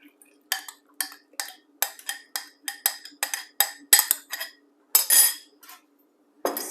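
A utensil clinks and scrapes rhythmically against a bowl as wet and dry homemade waffle batter ingredients are stirred together, a steady series of close, bright taps with short pauses.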